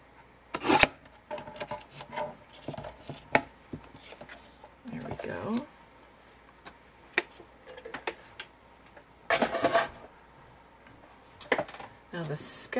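Paper card stock is trimmed by hand for a card, heard as short scraping and cutting strokes separated by quiet gaps, close and fairly faint.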